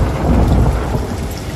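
Heavy rain pours and low thunder rumbles in a storm at sea in the pirate game Sea of Thieves, a loud, dense, steady wash of sound.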